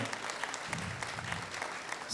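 Audience applause at a jubilee gala of the Forum Humanum Mazurkas, a steady wash of many hands clapping throughout, moderately loud and even, with no voices standing out.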